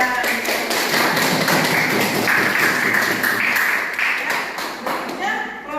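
Students in an Islamic religious education classroom clap together in a dense, rapid patter of hand claps that continues steadily, with voices mixed in under the clapping.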